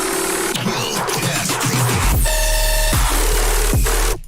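A brostep bass synth turnaround layer: a loud, dense electronic passage with growling, buzzing bass and choppy rhythmic hits, then heavy sustained sub-bass under bright, stepped synth tones, ending abruptly.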